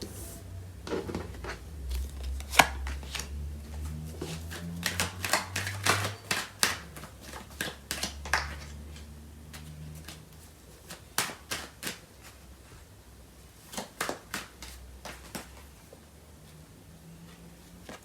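Tarot cards being shuffled and handled by hand, with repeated quick papery riffles and snaps in bursts, close and fairly quiet, with a low hum underneath and no talk.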